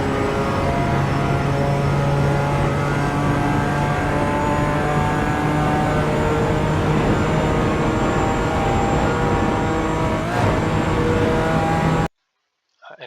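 A race car engine holds full throttle on the Nürburgring Nordschleife during the N24, a loud, steady, close engine drone that runs unbroken for about twelve seconds before cutting off abruptly.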